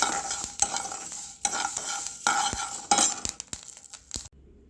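Soft sizzling of curry leaves frying in a pan for rasam powder, broken by repeated scraping stirs and light clinks of a spoon, then quiet at the end.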